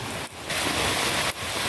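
Heavy monsoon downpour in a coastal village near Devgad harbour, a loud, dense, continuous hiss of rain pounding surfaces close around, briefly dipping once or twice, with no voices.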